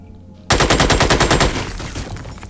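Rapid automatic gunfire from the Xenonauts video game, a loud sustained burst of closely spaced shots that starts abruptly and rings on as it fades slightly, with no talking.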